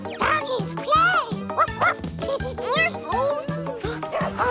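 Cartoon dog from a children's animated adventure series barking in quick, yippy bursts, loud and close, mixed with excited child-like voices and playful music.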